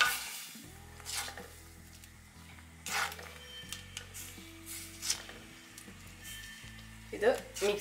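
Pumpkin and lentil erissery curry with coconut paste and curry leaves being stirred in a pot, soft scraping and occasional clinks of the spoon under a low simmer, with a person talking over it.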